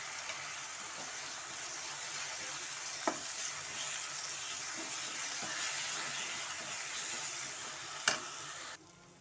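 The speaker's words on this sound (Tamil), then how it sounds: "இப்போ வெங்காயம் தக்காளி நல்லா வதங்கிருச்சு." Chopped onion and tomato with rock salt sauté in a pan, giving a steady close sizzle with a few sharp clinks of a spoon against the pan.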